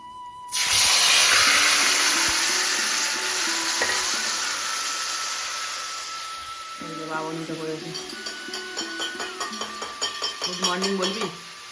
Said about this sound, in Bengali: একদম অল্প তেলে মাংস করছি